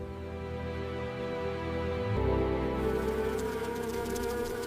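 A honeybee hive hums in the evening, a steady dense buzz of many wings that swells louder partway through and carries on without pause.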